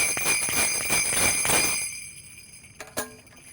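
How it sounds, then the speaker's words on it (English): Sleigh bells from a symphony percussion section are shaken in quick, bright jingling pulses up close, then stop and leave a couple of faint ringing taps as the sound fades. "sleigh bells just in time for the holidays."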